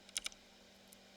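Scattered, faint keystroke clicks on a computer keyboard during command-line work setting up a Debian-based Linux system, a quick pair of taps followed by a lone click and a final sharp press, with no voice.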